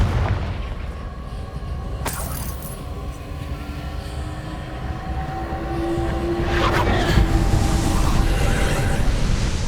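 Repeated Confringo fire spells in the Hogwarts Legacy video game: loud booming blasts over continuous rumbling game noise, with a sharp crack near the start and a bigger burst later.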